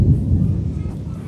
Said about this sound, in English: How me hear them the thunder that roll?